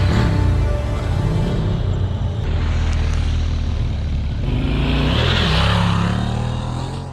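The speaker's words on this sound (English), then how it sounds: "The growling engine noise conveyed the level of torque" An adventure motorcycle engine growls loudly and continuously on a gravel trail, a rough, close rumble that swells and eases with throttle while tires crunch over loose stones.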